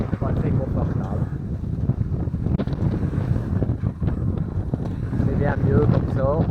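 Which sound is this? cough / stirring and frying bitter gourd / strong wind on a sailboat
strong wind on a sailboat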